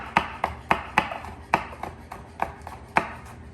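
Knife slicing a chili pepper on a cutting board, a quick series of about a dozen crisp, close taps in an uneven rhythm.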